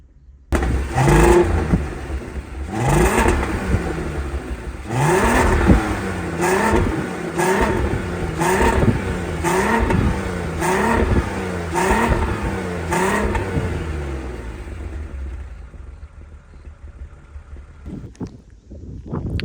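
A Volkswagen Golf 4 2.8 VR6 12-valve engine revs repeatedly in a rising and falling rhythm, a throaty growl close by that fades toward the end.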